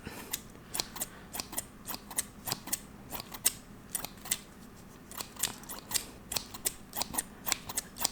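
Scissors snip hair in close, crisp ASMR-style cuts, regular and rhythmic, alone against a quiet background.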